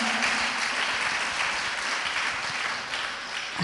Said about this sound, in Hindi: एक बार आपके लिए भी जोरदार ताली बजा के आपका स्वागत करें।